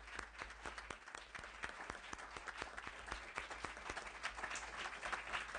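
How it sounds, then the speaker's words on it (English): An audience at a California Assembly select committee hearing on the green economy gives a round of applause. The claps are sustained and fairly faint, heard from across the room. "we'd be happy to recognize you with a round of applause for your outstanding academic success."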